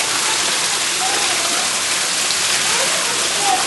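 Rainwater pours down hard in a desert thunderstorm, a steady dense rushing hiss like heavy runoff or a cascade, continuous and close for the whole stretch.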